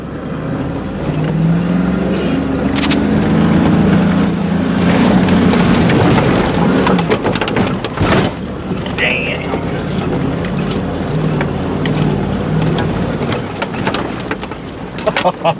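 An off-road vehicle grinds along in four-wheel drive during a Gambler 500 trail run, a loud continuous engine drone with rough bumps and knocks, while people talk over it.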